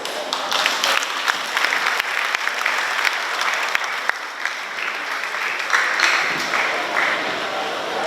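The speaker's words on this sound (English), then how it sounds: "Once again, let's give the graduates a round of applause" Sustained, loud applause from a large audience at a high school graduation ceremony for the Class of 2025, dense clapping throughout with a few faint voices underneath.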